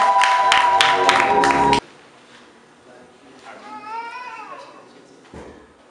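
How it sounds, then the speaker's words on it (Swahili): At a theology graduation ceremony, the audience claps for graduates in a brisk burst of rhythmic claps over tonal music. The applause stops abruptly after under two seconds and gives way to a quiet room with faint murmurs. "Makofi kwa ajili yao."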